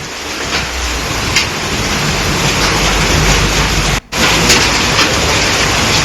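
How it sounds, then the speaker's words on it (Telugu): A violent storm in Uttar Pradesh, with heavy rain pouring and strong wind roaring in a loud, steady wash that breaks off for an instant before resuming. "ఒకవైపు వర్షం కురుస్తూనే ఇంకోవైపుగా భారీ గాలి దుమారం, చెత్త చెదారం మొత్తం కూడా గాల్లో కలవడం చూస్తున్నాం"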